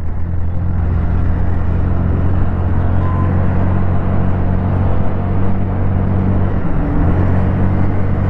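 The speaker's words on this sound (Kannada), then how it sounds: "ಸೊ ಈಗ ನೋಡಿ ಗಾಡಿ ಸ್ಟಾರ್ಟ್ ಆಯಿತು" A Honda Activa 125 scooter engine idles after starting, a steady low hum close by that holds even and unbroken with no voices.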